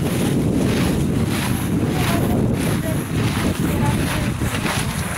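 Strong wind buffets the microphone in a constant roar, with a low rumble underneath and no clear pauses.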